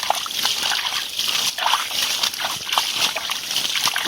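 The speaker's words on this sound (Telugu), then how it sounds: "నీళ్ళు ఒకరుగా చల్లేస్తున్నాము" Water is splashed out of a small pond while catching fish, sloshing continuously nearby in repeated throws, a bright watery spray with no voices.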